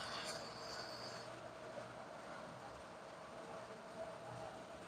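Model toy trains, Lionel or MTH, running on a home layout make a faint, steady rolling rumble with a brief high metallic squeal at the start.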